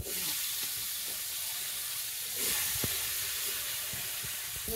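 Vegetables fry in a pan with a soft, steady sizzle and hiss at moderate distance, with occasional small clicks and knocks from stirring, no voices heard.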